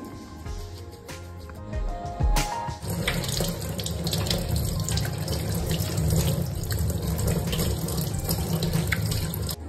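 Tap water runs steadily into a sink as hands are rinsed after a homemade manicure scrub, beginning with a few clicks and splashes, then becoming a continuous close splashing stream with no talking.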